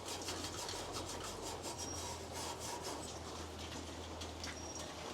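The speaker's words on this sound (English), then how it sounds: "I don't know if you guys can hear that as it's scrubbing it." A chrome exhaust tip being scrubbed and polished gives off a steady, faint rasping rub throughout, close and continuous with no talking.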